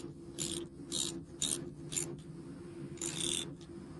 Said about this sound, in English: Take out the slack and retighten the bolt.